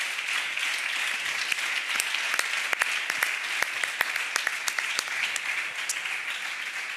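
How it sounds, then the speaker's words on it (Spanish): A loud, sustained round of applause for two debaters at a physiotherapy gathering in Cantabria, dense crowd clapping with many crisp, close individual claps cutting through. "Un aplauso muy fuerte para los dos por mojarse tanto."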